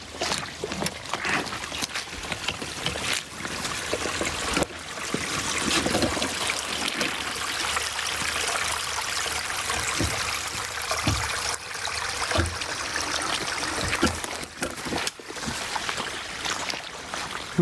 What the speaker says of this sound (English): The brook is pretty high right now.